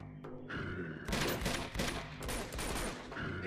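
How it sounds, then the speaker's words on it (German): Gunfire in the video game Uncharted 2: loud rapid bursts of automatic fire and explosive shots in bunches, filling the clip from about a second in. "Immer weiter schießen!"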